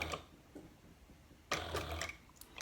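A sewing machine stitches a handbag shoulder strap. After a quiet stretch with faint ticks, a short, loud burst of rapid stitching starts close by and then stops.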